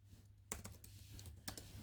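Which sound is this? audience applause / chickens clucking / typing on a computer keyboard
typing on a computer keyboard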